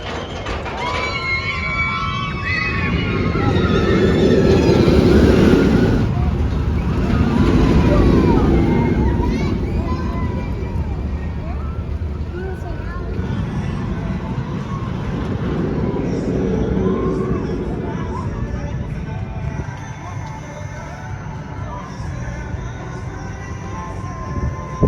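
Steel Eel roller coaster at SeaWorld San Antonio, a loud rumbling ride roar that swells and fades with rattling track noise, riders' voices and shouts mixed in throughout.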